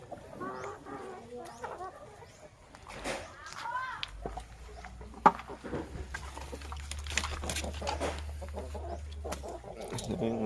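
Jersey Brahma chickens clucking in a backyard coop, soft scattered clucks mixed under steady talk, with a low hum joining partway through.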